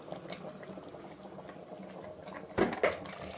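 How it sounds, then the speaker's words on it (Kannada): Mutton curry masala of onion and turmeric cooks in a pot for a village-style mutton curry, giving a steady low bubbling simmer, with two brief louder clatters near the end. "ಹೀಗೆ ನೀಟಾಗೆಲ್ಲ ಮಿಕ್ಸ್ ಮಾಡಿಬಿಟ್ಟು ಒಂದು 2 ನಿಮಿಷ ಇದನ್ನು ಬೇಯಿಸ್ಕೊಳ್ಳೋಣ."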